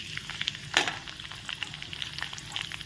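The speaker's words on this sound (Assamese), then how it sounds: "কাটি ৰখা পিঁয়াজটো দি দিম।" Chopped onion is tipped into hot oil with crackling panch phoron in a home kitchen while cooking an Assamese dish, giving a steady close sizzle with one sharper hiss and a continuous frying crackle.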